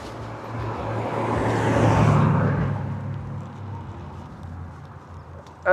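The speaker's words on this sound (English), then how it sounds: "There's a fast car." Fast car passing along a road at an old abandoned military base, its engine roar swelling to a peak near the middle and fading away, with a steady low hum beneath.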